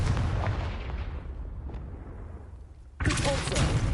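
A Confringo fire spell blasts in Hogwarts Legacy: a loud, dense explosive roar that slowly fades, then a second sharp, full burst hits near the end, with no talking.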